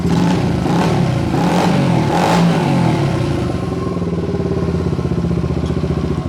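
A restored 1977 Honda XR75 motorcycle engine runs loud and close, rumbling and revving with a rough, clattering idle that settles into a steady throb.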